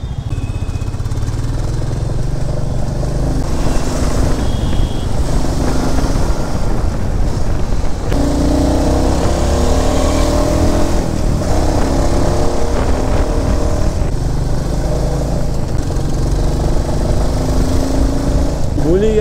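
A Royal Enfield Classic 350 motorcycle engine thumps steadily while riding on a road, with wind rush and a voice talking intermittently over the continuous drone.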